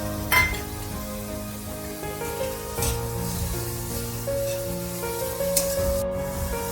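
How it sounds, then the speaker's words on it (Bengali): Chopped tomatoes hitting hot oil for a Bengali fish-head mung dal, giving a steady loud sizzle with a few sharp spatters and clinks over a constant hum of background tones. "এবার আমি এই তেলেতে দিয়ে দিচ্ছি কেটে রাখা টমেটো, ছোট ছোট করে কেটে রাখা টমেটো।"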